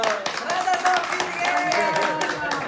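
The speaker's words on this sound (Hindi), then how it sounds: "तालियां तालियां" Hands clap at a post-wedding family gathering, a quick run of claps mixed in with people talking loudly nearby.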